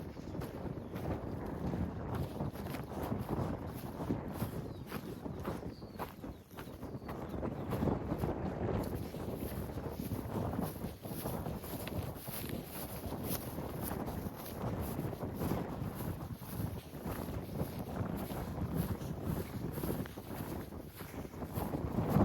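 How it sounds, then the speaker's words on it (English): Strong wind blasts across a Scottish mountain trail on the Cape Wrath Trail, roaring and buffeting a nearby microphone with continuous gusty rushing from start to finish. "Wow, the wind is really picking up."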